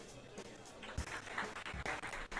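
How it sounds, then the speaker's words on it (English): Applause from a small group of hotel guests at a dinner in the puzzle game Rusty Lake Hotel, a faint, scattered patter of clapping that rises and dips across the moment, heard alone. "I'm getting an applause"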